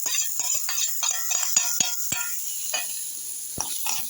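Eggplant being sautéed in a pan, with a soft steady sizzle under a run of light clinks and scrapes of a utensil stirring against the pan, busier at first and sparser toward the end.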